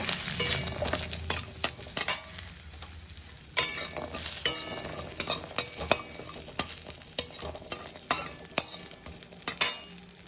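Lentil dumplings sizzle steadily in hot mustard oil in a wok while a spatula scrapes and clinks against the pan in repeated strokes.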